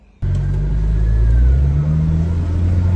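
A BMW N54 135i coupe's engine, fitted with a new intercooler, starts with a sudden onset and then drones and revs steadily up close for a few seconds.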